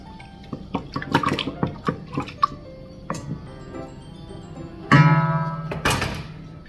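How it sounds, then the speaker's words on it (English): A wooden spoon gently stirs a mixture of yeast, sugar and water in a bowl, giving soft scattered knocks and swishes, then a brief louder splash and slosh near the end. "Now I'm gonna take a wooden spoon and gently stir it a little bit."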